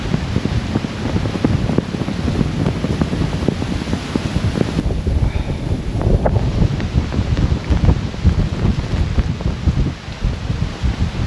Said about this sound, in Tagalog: Na-tiyempo na talaga malakas yung hangin.